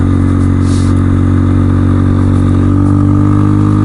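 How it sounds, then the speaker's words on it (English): Honda CRF dirt bike engine idling steadily and loud, a constant low mechanical drone with light clattery texture, running alone with no talk. "the little CRF is running really well"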